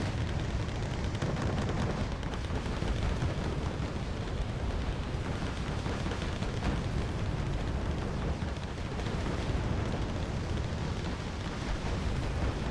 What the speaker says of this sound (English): the Mi-24Ds are doing what they're supposed to do, which is just coming in and putting down volume of fire on